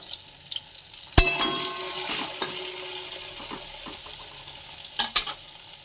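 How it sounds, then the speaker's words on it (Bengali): Sizzling from eggplant frying in a pan, with a few sharp clinks and clatters of utensils, the hiss steady between them. "ভাবলাম একটু বেগুন ভেজে দিই"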